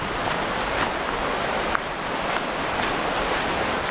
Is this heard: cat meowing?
no